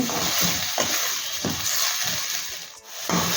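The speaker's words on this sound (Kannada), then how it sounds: "ಚೆನ್ನಾಗಿ ಫ್ರೈ ಆಯಿತು ನೋಡಿ" Kodai fish fries in a pan with a continuous close sizzle and hiss, broken by repeated soft scraping stirs and a brief dip near the end.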